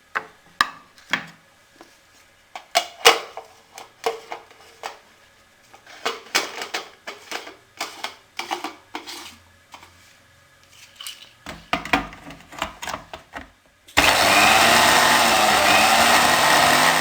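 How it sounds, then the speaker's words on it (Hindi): An electric grinder whirs loudly and steadily as it grinds dried turmeric at home, starting near the end after a stretch of clinking and handling noises. "अब खुश्क की हुई हल्दी को हम ग्राइंड करते हैं।"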